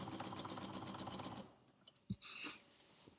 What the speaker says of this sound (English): So I sew down the edge of my pillowcase.